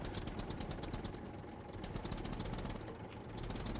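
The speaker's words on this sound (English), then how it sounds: "there's nothing wrong with the old tractor" An old tractor engine in SCUM runs at a steady, low, throbbing idle with a faint rhythmic knock, constant and fairly quiet, with no voices over it.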